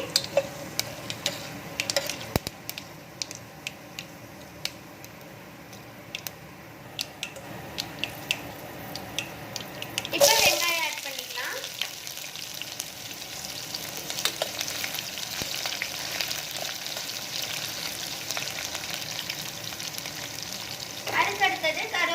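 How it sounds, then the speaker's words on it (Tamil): Fenugreek, chana dal, urad dal and mustard seeds fry in hot oil for a brinjal tamarind curry, with scattered ticks and pops at first, then a sudden louder crackling sizzle that settles into a steady fry, close by. "இப்போ நம்ம வெந்தயம் கடலப்பருப்பு உளுந்தம்பருப்பு கடுகு எல்லாத்தையும் ஆட் பண்ணிக்கலாம் இப்போ நல்லா பொரிஞ்சிருச்சு"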